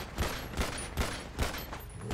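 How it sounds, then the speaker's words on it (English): Gunfire in GTA 5 during a police roleplay chase, bursts of shots repeating roughly every half second, fairly faint and distant, with no voices. "Oh, they're still shooting."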